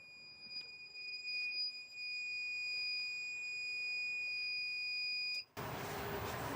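A continuous high-pitched electronic tone from a 3000W power inverter being switched on sounds for several seconds, then cuts off abruptly and gives way to a burst of broad hiss.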